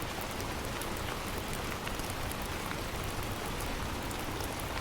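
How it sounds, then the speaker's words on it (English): Steady rain patters against a window, a soft continuous hiss of droplets with faint scattered taps, even and unbroken from start to finish, with no voices. "The rain continues to fall peacefully, the rhythmic sound of the droplets against the window"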